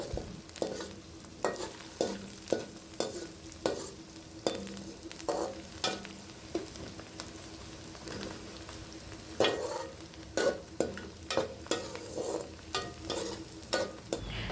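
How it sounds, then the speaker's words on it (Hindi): Onions fry in a pot for chicken Afghani pulao while a ladle scrapes and stirs them, giving a soft continuous sizzle broken by repeated rhythmic scraping knocks. "यहाँ पर आप देख रहे हैं मुसलसल मैं कफ़गीर चला रही हूँ ताकि तमाम प्याज अच्छी तरह से भुन जाए।"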